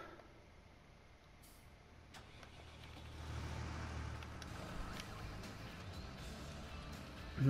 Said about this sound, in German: Gut, Hans, dann fahre ich zum Feld hoch